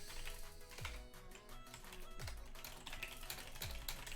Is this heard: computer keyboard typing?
yes